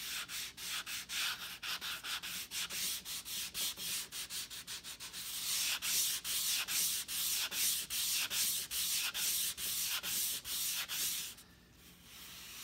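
Sandpaper drawn in repeated strokes over the front edges of a 12-inch balsa Sandpiper glider, a close, steady rasping rhythm of rubs that speeds into a denser run before stopping near the end.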